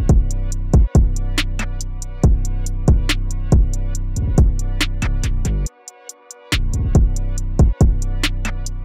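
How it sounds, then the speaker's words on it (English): A dry drum loop with no saturation plugin, produced in a music session, plays punchy kicks, snares and crisp hi-hats in a tight repeating pattern. A brief dropout falls near the middle, and the loop sounds loud and clean with no talking. "Without it, the drums kind of would sound like this."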